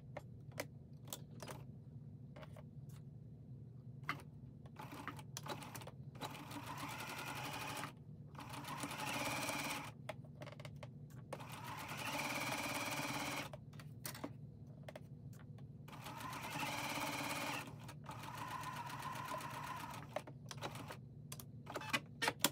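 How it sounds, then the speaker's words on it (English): A sewing machine stitches a single seam line along the edge of a cotton baby burp cloth, its steady mechanical whirring running in several bursts separated by short pauses, close and fairly quiet. "let's take this over to the sewing machine once I've finished pinning"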